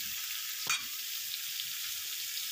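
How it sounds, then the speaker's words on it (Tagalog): Food sizzles steadily in a frying pan, a constant close hiss of hot oil with one brief louder pop, while rice cooks alongside on the stove. "Aking pagprito at pagsaing."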